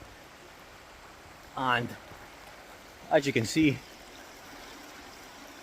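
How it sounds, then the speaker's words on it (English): A waterfall in Scotland gives a steady, soft rushing hiss of falling water throughout, heard from some distance, while a person speaks briefly over it twice. "going down to the bottom bit of the waterfall"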